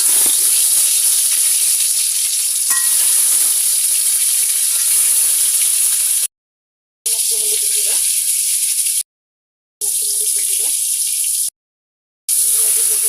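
Eggs frying in hot oil in a wok, a loud steady sizzle and hiss that runs on, broken by brief gaps of silence, with no voices.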